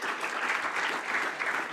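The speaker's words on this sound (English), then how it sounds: "let's give a round of applause for our 2 speakers" An audience at a wellbeing conference applauds two speakers, a short, even patter of clapping at moderate distance.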